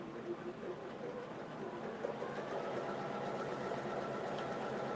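An embroidery machine stitches a Halloween mug rug in the hoop, giving a faint, steady mechanical whir and chatter that runs continuously at low level.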